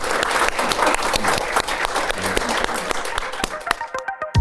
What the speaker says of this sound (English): I just want to invite another round of applause for Justin and Rebecca